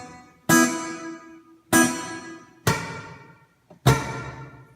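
Electric guitar played through an amplifier with a reverb pedal switched on: four loud strummed chords spaced about a second apart, each ringing out and decaying smoothly into a reverberant tail, no voices.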